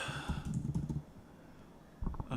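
Quiet typing on a computer keyboard, a quick run of soft key clicks, a brief pause, then a few more taps, close and faint with no talk.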